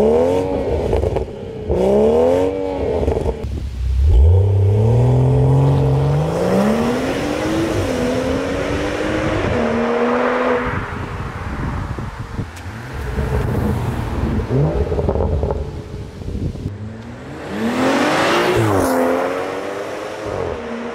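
A BMW 340i F30 with a Valvetronic muffler, high flow downpipe and stock resonated midpipe revs and accelerates through several gears, its loud exhaust note rising in pitch, dropping at each shift and climbing again.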